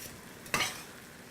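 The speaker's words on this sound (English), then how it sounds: "I'm just gonna break the fish up and start stirring it around" Fish with tomatillos and their juices is stirred in a frying pan, a single quiet scraping swish over a soft steady sizzle.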